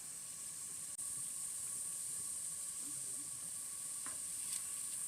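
Homemade soft pretzels boil in a pot of water, giving a faint, steady bubbling hiss with a thin high whine over it and a couple of small clicks.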